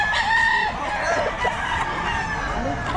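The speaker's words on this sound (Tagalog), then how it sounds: "Boss Randy, magkano mga manok mo ngayon?" Several roosters crow repeatedly at a busy chicken market in Bocaue, with overlapping clucks and a steady murmur of people talking in the background.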